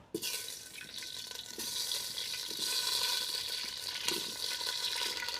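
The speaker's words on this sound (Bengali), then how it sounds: "আলুগুলো ভেজে নেব" Potatoes frying in hot oil with sesame seeds in a heated clay pot, a steady close sizzle that swells slightly midway and carries on unbroken.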